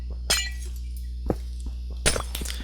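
Glass blocks broken in a video game, three sharp crisp shattering clicks spaced about a second apart over a low steady hum.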